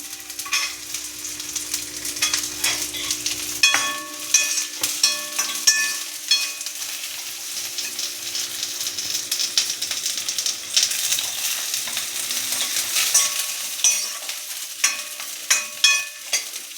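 Grated coconut fries with lightly browned onion in a pan, producing a continuous crackling sizzle broken by frequent close scrapes and taps of a spoon stirring through it, with no talking.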